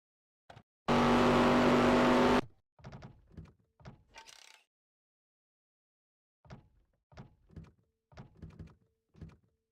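Truck racing crash in the NR2003 racing game at Daytona: a loud two-second burst of engine roar, then scattered scrapes and thumps from impacts, separated by quiet gaps.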